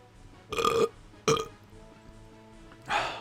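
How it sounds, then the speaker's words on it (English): Three loud, throaty burps from a person, two close together and a third after a pause, each rough and drawn out against a quiet room. "I'm gonna burp here."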